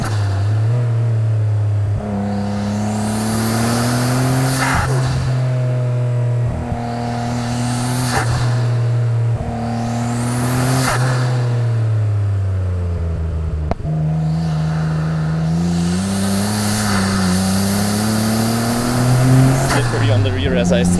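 A 1993 Nissan Skyline R32 GTR climbing a mountain touge road, its engine revving up through repeated gear pulls with rising whines and shifts, close and loud beneath someone talking.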